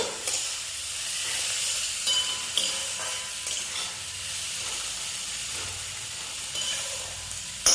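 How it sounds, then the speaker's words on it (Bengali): Ginger-garlic paste fries in a pan for aloo dum, giving a constant bright sizzle and hiss, with occasional scrapes of a spoon stirring it. "আদা রসুনের পেস্টটা এর সাথে অ্যাড করে দিচ্ছি আবার সেই নাড়াচাড়া করে নেব"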